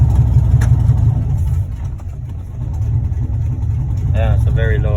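A 6.0 engine with a new rear main seal and cover gasket idles very low in gear, a loud, steady low rumble close by, with brief voices near the start and the end.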